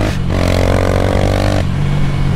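A Honda XRE 300 motorcycle riding along with a loud, steady engine drone whose pitch rises briefly in the middle before settling back, heard close and continuous.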